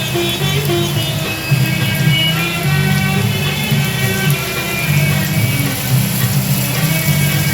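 Onions sizzle softly in a pan beneath a low, steady droning hum, with light crackling throughout and no voices; fried until reddish-brown, for a chicken curry.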